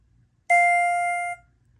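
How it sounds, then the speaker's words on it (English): A Schindler/Westinghouse 700A elevator chime sounds once, a single clean electronic ding held for nearly a second before cutting off, loud and close against near silence. "Here is the 700A chime."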